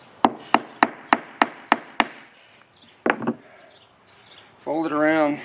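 A hammer taps a Trex composite deck board in seven quick, evenly spaced knocks, then a short double knock after a pause, followed by a voice.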